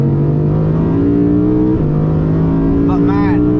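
A 2023 Audi R8 GT with a V10 engine drives fast, its loud, close engine note holding steady and then stepping in pitch at a gear change, with a brief voice near the end.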